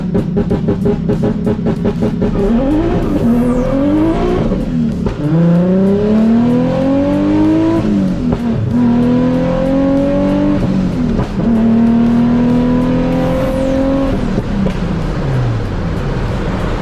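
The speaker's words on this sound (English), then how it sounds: "Let me show you that like 2-step launch control shit." Nissan 350Z drift car held on 2-step launch control, its engine revving hard in repeated rising sweeps that bounce off the limiter with crackling pops, loud and close throughout.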